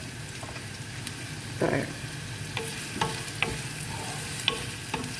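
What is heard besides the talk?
onions frying in mustard oil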